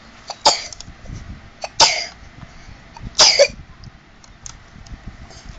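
A person coughs three separate times, short sharp bursts spaced about a second and a half apart, close and fairly loud against a quiet room.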